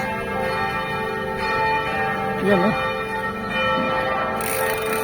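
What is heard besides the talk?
computerized church bells of Manila Cathedral ringing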